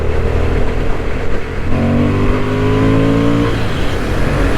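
Honda Hornet 750 motorcycle accelerating hard through an overtake, a loud, close engine note with a steady roar and rising harmonic pitch sweeping upward midway, sustained without any voices.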